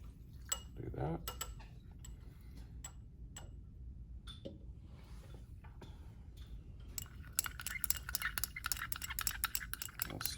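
Glass stirring rod clinking against lab glassware while 9-fluorenone is stirred into methanol, a string of light, irregular ticks and taps close by, growing quicker and denser toward the end over faint background hum.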